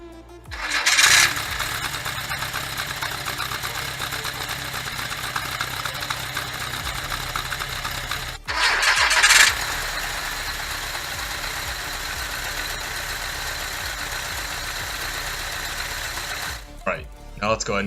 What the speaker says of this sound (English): To start it, all you need to do is insert the key into the ignition and just twist it to start.